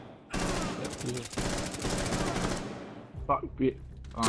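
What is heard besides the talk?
gunfire in the video game Rainbow Six Siege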